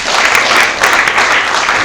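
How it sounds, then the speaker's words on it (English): Audience applause for the first keynote speaker at a business conference, a steady, dense wash of clapping filling the hall at close range for the whole moment. "A round of applause for her."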